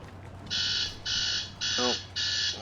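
An alarm in the strategy game Hearts of Iron IV beeps in four bright, evenly spaced bursts, each about half a second long, with a brief voice sounding under the third burst.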